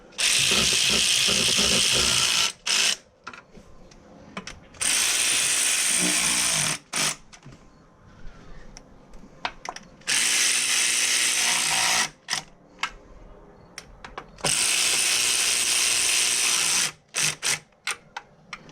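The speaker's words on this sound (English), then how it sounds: "I put the hand ratchet on and check and see how" A standard hand ratchet tightens valve cover bolts, producing loud, close bursts of rapid clicking separated by short pauses, repeated several times with no speech.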